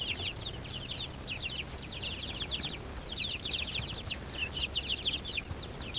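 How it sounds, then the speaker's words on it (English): Silkies and other bantam chickens cluck and call in a farmyard, a steady scatter of short bursts over a low, continuous background rumble at moderate distance. "There's some silkies over there. Some other bantam breeds."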